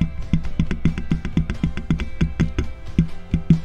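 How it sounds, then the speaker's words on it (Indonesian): Fingers tap repeatedly on the body of a dynamic microphone, a run of about twenty sharp close clicks with low thuddy bodies in an uneven rhythm, loud and alone without speech. "Lalu kita akan cobain ketuk-ketuk di bodinya."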